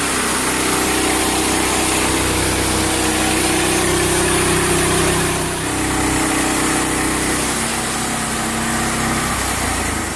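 Sawmill engine cutting through a tapered log, a loud, close, continuous engine drone whose pitch shifts partway through under load, no talking.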